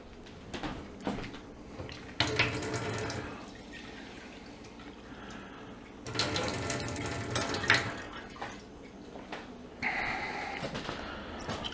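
Apple cider vinegar pours into a container in several short bursts, splashing and gurgling up close, with pauses of quiet between pours.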